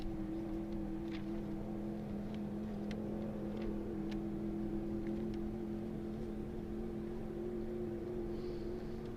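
A Corvette race car's engine at Speedweek, heard distant and faint as a steady droning hum over continuous background noise, with no talk.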